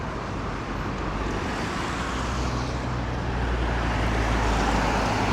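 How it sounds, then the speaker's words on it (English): Steady roadway noise from busy rush-hour traffic on St Annes Road, Blackpool, at evening, with a continuous hiss of tyres and engine rumble and a lower vehicle drone building toward the end. "sorry about the traffic noise, it is pretty busy because it is tea time"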